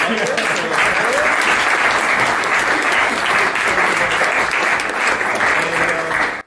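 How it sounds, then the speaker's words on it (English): Audience applause closing an AI talk at Lisbon AI Week, a loud, sustained burst of clapping from a room full of people that fades away at the end. "Let's have a round of applause for the..."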